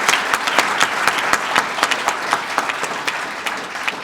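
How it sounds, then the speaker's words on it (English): Audience applause at a public announcement event in Pennsylvania, a steady broadband clapping from many hands with individual sharp claps popping out, sustained and fairly loud throughout the four seconds with no voices. "So give yourself a round of applause."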